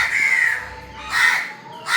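Crows gathering at a house to be fed cawing loudly nearby, with two drawn-out harsh caws and the start of a third, heard clearly and without voices.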